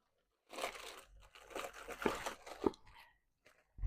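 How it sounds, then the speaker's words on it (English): A plastic bag is crinkled and crumpled by hand while unpacking a haul of resin-crafting supplies, giving close, crackly rustling bursts with a few sharper crunches before it falls quiet. "Get rid of the plastic bag."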